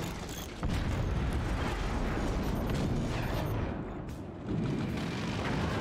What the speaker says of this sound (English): I saw that mortar too late!